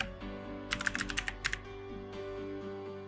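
Keys clack on a computer keyboard during a Windows 10 search, a quick cluster of crisp taps followed by a short second burst, over a low steady hum.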